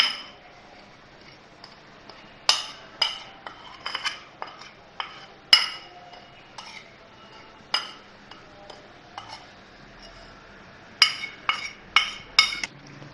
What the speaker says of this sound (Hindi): मसाले शामिल करेंगे इसमें, मिक्स कर लेंगे इसको।